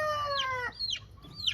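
Young chickens, including a dark straight-combed rooster, calling close by: one harmonic crowing note followed by two quick rising squawks.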